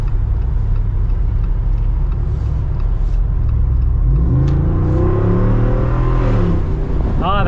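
A 2024 Jeep Wrangler 392 Final Edition accelerates from a steady deep rumble into a rising, roaring exhaust note, loud and close, with no talk.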